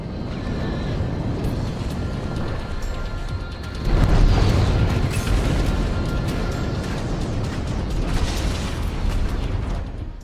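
Destroyed turrets explode in the space combat game Strike Suit Zero, producing dense rumbling blasts over a continuous mechanical roar, with a louder burst near the middle and no voices.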